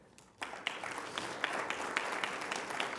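Audience applause breaks out after near silence at a student scholarship celebration, a crowd clapping steadily and fairly faintly in a room, with scattered sharper claps standing out.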